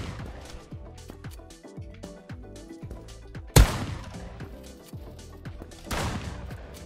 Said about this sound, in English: I forgot all about the shotgun jump.